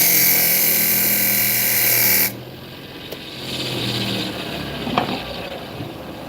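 A loud power drill bores countersink holes into wood, a steady whining buzz that stops abruptly, followed by quieter handling noise and a softer grinding pass.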